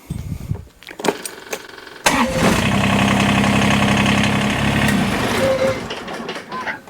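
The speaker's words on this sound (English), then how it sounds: "So we'll put the filler cap back on and start the motor for just a minute or two." Tractor engine cranked and started after an oil top-up, preceded by clunks and handling noise, then catching with a burst and settling into a steady, loud idle close by.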